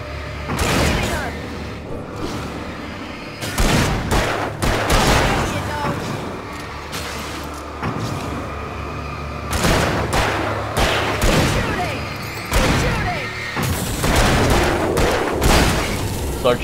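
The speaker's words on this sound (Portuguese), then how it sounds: "Tipo, ela fica atirando e não acaba." Continuous gunfire from a character in the video game Alan Wake comes in loud, repeated bursts with heavy booms, nearly unbroken, while someone talks over it.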